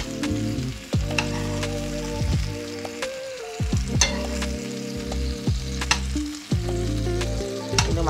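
Onion sizzles loudly in a pan for birria tacos, a continuous crackling fry broken by a spatula scraping and knocking against the pan several times.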